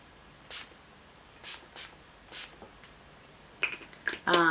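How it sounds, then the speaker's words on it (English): Several short hissing bursts of a rose water setting spray bottle sprayed onto a face, spaced about a second apart, followed by faint rustling and a brief voice. "spray my face with rose water setting spray"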